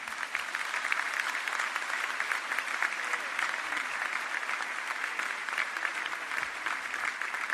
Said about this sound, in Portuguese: este intercessor é o Padre José da Lapa, para quem eu peço uma salva de palmas.